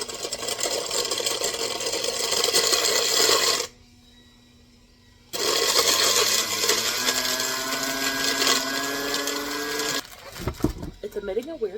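A kitchen chopping appliance whirring loudly as its blade chops cookies, running in long loud bursts with a pause, the motor pitch shifting and rising, then rattling near the end.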